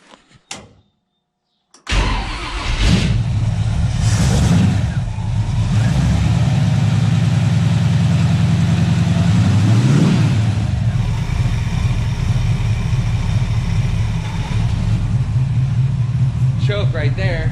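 An old Tide car's engine cranks and catches after a moment of silence, then settles into a steady, loud, rumbling idle with a brief rise in revs midway and a faint voice near the end.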